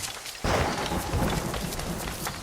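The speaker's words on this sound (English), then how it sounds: "The storm's getting worse." A thunderstorm in the video game Assassin's Creed Rogue: a sudden loud crack of thunder breaks in, then rolls into a steady wash of heavy rain and rumbling that continues to the end, with no voices.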